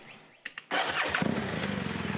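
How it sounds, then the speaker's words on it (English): A BMW R1200GS motorcycle on its center stand cranks briefly with a couple of starter bursts, then catches and settles into a loud, steady idle close by. "we're going to now start the bike and bring it up to temperature"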